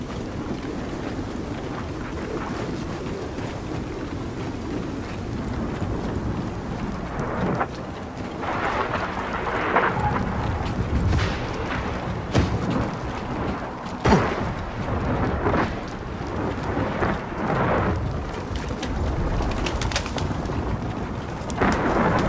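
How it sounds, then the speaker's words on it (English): A windflare storm in the Gears of War 4 video game: heavy rain and wind roar continuously, broken by several loud thunder cracks and rumbles through the second half, with no one talking. "we got another wind flare"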